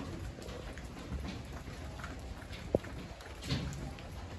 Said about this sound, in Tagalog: Maulang-maulan na naman po ulit. Kahapon ay sobrang init, ngayon naman ay sobrang ulan.